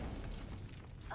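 An Incendio fire spell bursts at close range in the Harry Potter and the Chamber of Secrets video game, giving a low, rumbling boom that stays loud and fairly steady through the brief moment.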